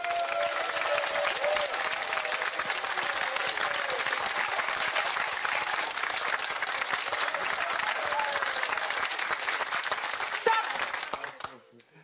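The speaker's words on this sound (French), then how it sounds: "Vous allez donc, à mon top, applaudir Nino" A French television studio audience gives a comedy contestant a long, sustained round of applause that holds steady for about eleven seconds before fading out.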